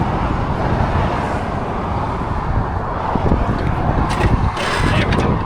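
A military surplus Humvee HMMWV accelerates on the road. A loud, dense rumble of engine, road and wind noise runs steadily from the cabin, with brief rattles and knocks near the end.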